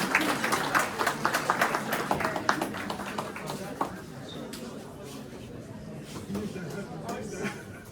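Audience applause for performers at a Ramadan iftar dinner with a Turkish community, a dense burst of clapping in the first few seconds that thins and fades, with chatter and voices continuing underneath.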